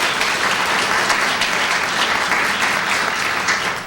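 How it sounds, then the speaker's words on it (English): An audience at an environmental leadership awards ceremony applauds in a steady, dense wash of clapping that holds for the whole stretch, with no voices rising above it. "Let's give Cheryl a round of applause."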